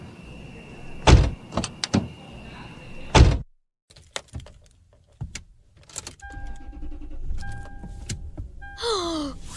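Car doors and handling sounds from a noir thriller audio drama as people climb into a car. Sharp thuds of doors shutting come first, then rustling and small clicks. A faint rising whir, like a power window, follows near the end.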